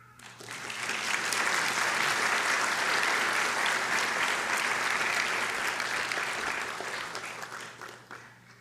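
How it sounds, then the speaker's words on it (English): A large graduation audience breaks into applause, swelling quickly to a full, sustained roar of clapping that holds steady and then tapers off near the end. "Now we can clap."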